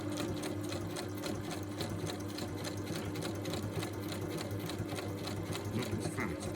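A sewing machine runs in reverse, stitching backwards with a steady rapid mechanical chatter at low, even volume throughout.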